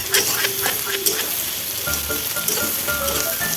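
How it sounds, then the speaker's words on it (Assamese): Onion and kohlrabi fry in a pan with steady hissing sizzle, punctuated by a few stirring scrapes and clinks, close and fairly loud with no talking. "এয়া ওলকবি আৰু পিঁয়াজ এনেকৈ ভাজি আছোঁ"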